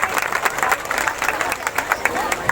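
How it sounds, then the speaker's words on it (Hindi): A church congregation at an Easter prayer meeting clapping together for God, with brisk rhythmic hand claps close by in a fast, fairly loud, regular beat. "जी ताली बजाएंगे परमेश्वर के लिए।"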